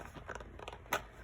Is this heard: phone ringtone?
no